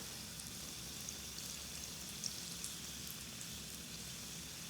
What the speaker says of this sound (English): Very gently just turn them over to help them sort of sizzle through